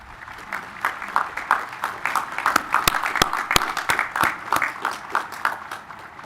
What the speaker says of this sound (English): Please join me with a round of applause for our guest on the dais